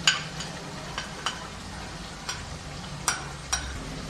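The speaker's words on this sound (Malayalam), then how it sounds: "എണ്ണയ്ക്കകത്ത് കിടന്ന് ഈ മസാല എല്ലാം ഒന്ന് മൂക്കണം" Chili masala fries in oil for a Kerala-style beef pickle, a soft, close sizzle marked by several short scraping taps as it is stirred, with no talking.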